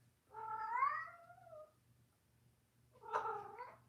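Two cat meows, a long wavering one followed after a pause by a shorter one, close and fairly quiet over a faint low hum.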